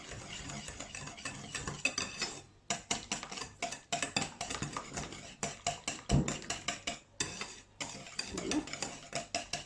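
Cake batter flavoured with liquid vanilla is stirred briskly in a bowl for a Franc-Comtois festive cake, a steady run of close scraping and clinking utensil strokes with a brief pause, and one short spoken word near the end.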